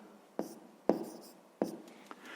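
A pen writes a fraction on paper during a fifth-grade maths exercise: three sharp taps as it touches down, each followed by brief scratching strokes, close and quiet.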